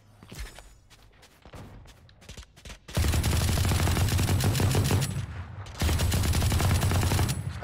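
Gunfire in the Valorant shooter game: a few sharp isolated shots and footsteps at first, then long loud bursts of rapid automatic fire that pause briefly and resume.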